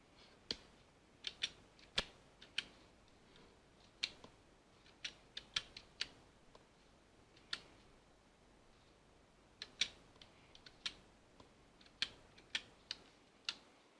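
An IP address typed on a computer keyboard: faint, sparse keystroke clicks in an irregular rhythm over a quiet room, some taps close together, others spaced apart.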